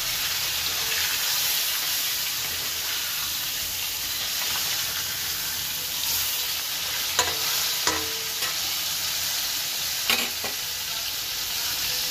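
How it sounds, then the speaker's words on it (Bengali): Rohu fish pieces sizzle steadily in hot oil at close range while a spatula turns them, adding a few sharp scrapes and clicks in the latter half over the constant hiss, with no one speaking. "মাছের এক পিঠটা ভাজা হয়ে গেছে, একটু উলট পালট করে নিই।"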